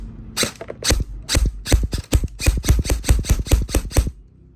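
An SRC airsoft gun fires a rapid series of sharp, close snapping shots, roughly a dozen or more in quick succession with brief gaps between bursts.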